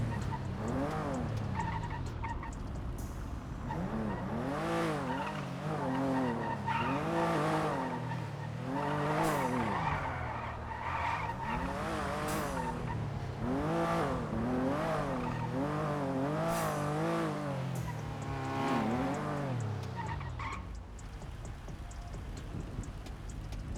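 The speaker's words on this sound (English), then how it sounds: "that seems like a bunch of supercars going towards" A group of supercars driving past on a wet road gives repeated rising and falling engine tones, with surging revs and gear changes, moderately close, plus rain or tire hiss beneath.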